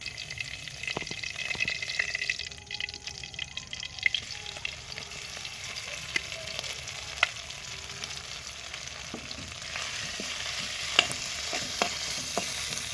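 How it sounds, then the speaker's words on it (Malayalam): Oil crackles and sizzles steadily as ginger garlic paste fries in a pan, with occasional sharp scrapes and clicks of a spoon stirring. "ജിഞ്ചർ ഗാർലിക് പേസ്റ്റ് നന്നായിട്ട് മൂത്തിട്ടുണ്ട്"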